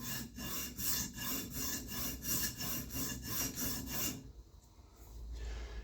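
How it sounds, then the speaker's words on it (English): An EDC knife blade is honed on a sharpener in about ten even, rhythmic rasping strokes. The strokes sound close and scratchy, then stop, leaving a brief quiet tail. "what this is doing is this is making sure that we hone the knife all the way to the apex"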